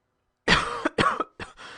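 A woman coughing, several harsh close coughs in quick bursts after a moment of silence.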